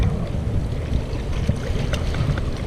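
Gusty wind buffets the microphone beside a small stream mud flat at the entrance to a stream near Botany Bay, a loud continuous rumbling roar with faint lapping water underneath and no voices.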